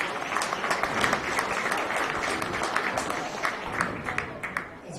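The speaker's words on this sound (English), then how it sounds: "Let's give all our market steer exhibitors a big round of applause." A county fair beef show audience applauds market steer exhibitors with sustained, dense clapping from many hands that holds steady throughout.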